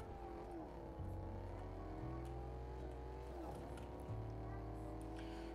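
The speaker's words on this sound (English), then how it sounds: "the best tactic for this car is to just do donuts in a field" Car in the video game Fortnite driven in circles doing donuts in a field, a steady loud engine drone with rising revs and shifting pitch throughout, with game sounds on top.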